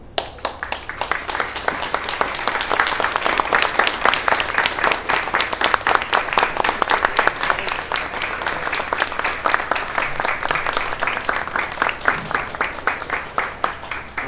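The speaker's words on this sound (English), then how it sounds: "I invite you to please stand to receive a round of applause." Sustained applause from an audience at a group art show of Guatemalan and Latin American artists: dense, steady clapping of many hands that lasts throughout, loud and close, with no talking over it.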